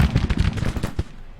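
Rapid crackling musket volleys with a few sharper shots in a Civil War battle from the game Grand Tactician, a short dense burst that thins out toward the end.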